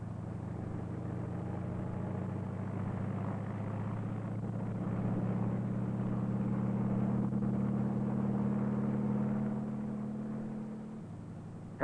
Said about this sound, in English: After World War II, the helicopter was perfected.